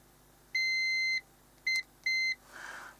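Multimeter continuity beeper sounding while testing a Roberts R737 radio with a power circuit fault, three clean electronic tones: one long beep, a short blip, then a medium beep, followed by a faint hiss.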